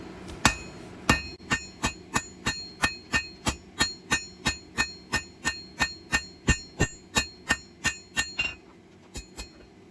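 Steady hammer blows ring out on hot steel bar stock over an anvil during blacksmith forging of a leaf key ring, about twenty sharp, evenly spaced strikes with a couple of slower final hits.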